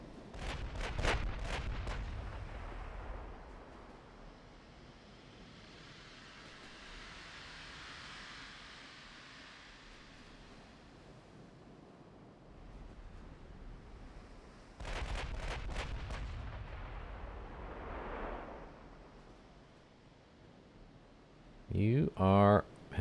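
Naval gunfire at destroyers in Ultimate Admiral Dreadnoughts: deep booming salvos, first a cluster of heavy reports, then a long rumbling lull and a second burst, with a voice talking over it.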